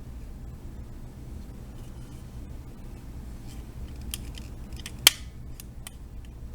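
Plastic parts of a Transformers Combiner Wars deluxe Breakdown figure clicking together: faint scattered ticks build to one sharp, close snap, followed by a few lighter clicks in an otherwise quiet room.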